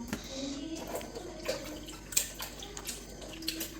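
Water poured while small tubers are rinsed in a kitchen, a low ongoing splash and trickle with a few brief drips and clinks, fairly close and moderately quiet.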